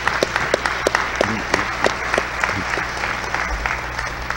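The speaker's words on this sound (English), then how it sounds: "A big round of applause for you people who are here now." Conference audience applauding in a hall during a JFK assassination conference, steady clapping with sharp individual claps over a low hum, lasting several seconds with some faint voices mixed in.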